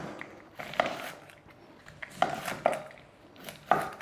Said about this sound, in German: den Blumenkohl werde ich mir jetzt in grobe Stücke schneiden.